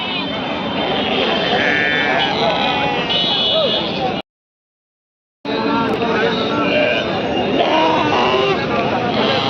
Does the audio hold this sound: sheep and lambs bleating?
yes